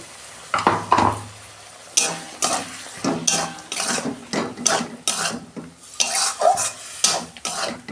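Green tomatoes frying in a pan with white and black mustard and poppy seed paste, stirred with a utensil that scrapes and clatters against the pan in repeated strokes over a light sizzle.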